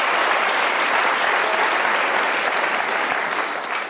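A lecture-hall audience at a Tim Keller Q&A claps steadily for several seconds, a dense, even roar of many hands that stays loud and alone before easing slightly at the end.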